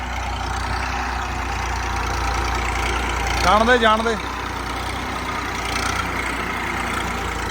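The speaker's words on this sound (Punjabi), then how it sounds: "ਆਵਾਜ਼ ਸੁਣੋ ਬਾਈ ਟਰੈਕਟਰ ਦੀ ਕਿਆ ਘੈਂਟ ਹੈ" An Indofarm 2050 tractor engine idles steadily and low throughout, with a short burst of voice briefly rising over the rumble midway.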